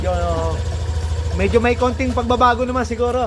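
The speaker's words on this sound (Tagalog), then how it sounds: "Ito na yung tunog ng makina." Overhauled Yamaha Aerox v2 scooter engine idling close by with a steady low, even thrum throughout, while someone talks over it.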